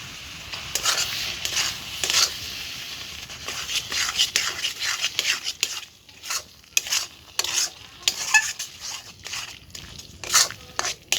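Palm fruit pulp, grated coconut and rice cook together in a pan for village-style palm pitha. A spoon scrapes through the mixture in uneven, close stirring strokes over a soft, continuous sizzle.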